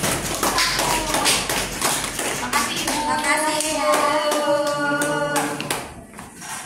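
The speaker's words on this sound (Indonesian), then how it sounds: "tepuk tangan buat kelompok" Applause from a class audience for a student group after a presentation, dense steady clapping throughout, with a few voices speaking over it.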